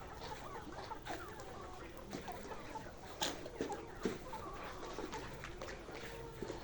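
Layer hens cluck and murmur throughout a poultry farm shed, a dense steady flock chatter with a few louder squawks standing out near the middle, over constant background noise and no talk.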